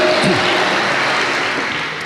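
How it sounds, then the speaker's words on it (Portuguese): Church congregation applauding during a Portuguese-language evangelical service, a dense wash of clapping that fills the short stretch at steady loudness and eases slightly toward the end. "Você pode aplaudir Jesus por isso?"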